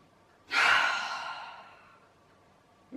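A single breath during a guided yoga session: a sharp, close intake swelling into a long, soft exhale that fades away over about a second and a half, with no talking.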